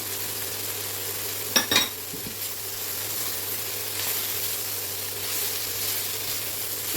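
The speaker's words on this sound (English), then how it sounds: "Now I'm going to pop in the olives now." Olives dropped into a hot frying pan alongside sausage for baked stuffed eggplant, giving a low steady sizzle with a couple of brief clatters early on, then a faint continuous fry.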